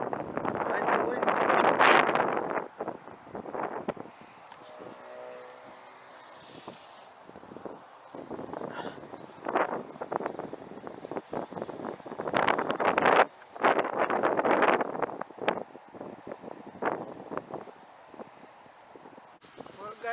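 Very strong wind blows during a DJI Mini SE drone flight, sounding as rough, gusty buffeting on the microphone that swells and fades in repeated surges.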